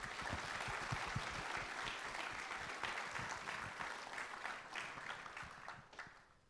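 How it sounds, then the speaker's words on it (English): Audience applause for the judges at the FIRST Tech Challenge 2024 Australian National Championship, a steady sustained clapping from a large crowd that slowly thins toward the end. "Let's give them a big round of applause for their dedication."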